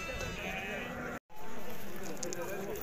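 Sheep bleat amid the bustle of a weekly Moroccan souk livestock market, the calls mixed into steady crowd chatter and nearby talk, with a brief dropout partway through.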